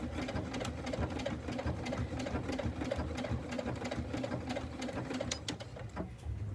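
A sewing machine runs a buttonhole stitch on quilt block fabric, its rapid needle clatter steady and close for several seconds before easing near the end.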